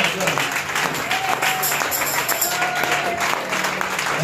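A congregation applauds during a French-language church worship service, with steady, dense clapping filling the room throughout while voices carry over it.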